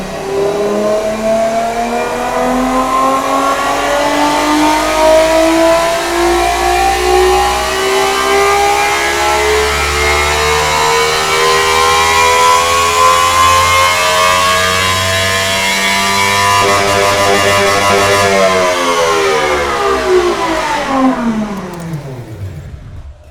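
The engine of a kei supercar built in Automation revs on a power test, its tone climbing steadily for about twenty seconds. Then it drops away quickly, loud and alone.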